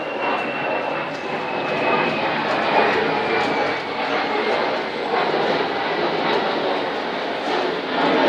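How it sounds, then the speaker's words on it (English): Loud jet plane passing overhead, a sustained roaring rush with a slowly falling whine, steady and close over about eight seconds. "Jet planes are loud."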